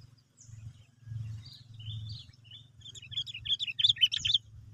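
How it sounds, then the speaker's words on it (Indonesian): Wapet songbird chirping in a contest setting with wild birds, bright quick tweets and trills building to a busy, loud burst of song over a low steady hum. "Mas bro, kita jajal wapet dulu. Apakah burung liarnya mau bertarung?"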